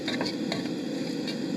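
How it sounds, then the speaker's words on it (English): Peppers sautéing in a pan on a camp stove, cooked for shrimp creole outdoors, giving a steady close sizzle with faint scrapes and stirring clicks and no talking. "we'll just saute this for a few minutes until it gets nice and tender and cooked"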